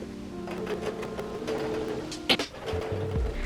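A sewing machine runs in short bursts while stitching a baby quilt made from baby clothes, a close, rapid whirring hum with a brief clack partway through as the fabric is handled.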